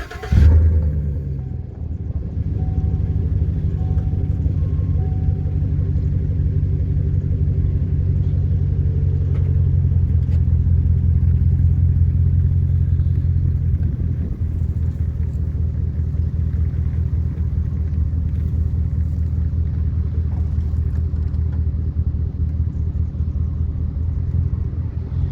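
A car's engine rumbles low and steady as the car creeps forward in neutral, a loud, close, continuous drone after a brief thump at the start, with no talk.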